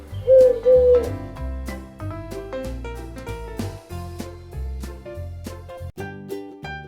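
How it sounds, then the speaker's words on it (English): Two soft, low pigeon coos sound near the start over cheerful children's background music, which continues alone afterward. "Pigeon."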